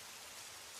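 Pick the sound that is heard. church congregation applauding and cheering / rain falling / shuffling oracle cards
rain falling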